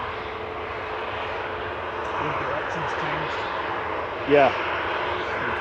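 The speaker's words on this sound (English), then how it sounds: "let's see whether it manages to do more than the synchronisation spool up this time" An airliner bound for Tenerife South spools up its jet engines for takeoff at Manchester Airport, a steady mid-distance roar with rising whine, briefly overlaid by a short spoken word.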